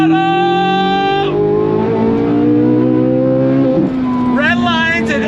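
A modified Chevrolet C8 Corvette Z06 revs hard and close at full throttle. The loud, buzzing engine note holds high, drops away, then climbs again as the throttle comes back on.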